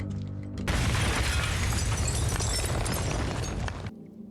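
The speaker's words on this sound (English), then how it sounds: "Explosion now, innit?" A loud, sudden explosion bursts out as broadband noise, roaring for a few seconds after a quieter hum, then cuts off abruptly.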